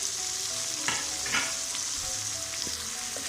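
Spices with cumin seeds and tomato fry in a pan, a steady crackling sizzle with a few louder pops and stirring scrapes, close and continuous, no voices.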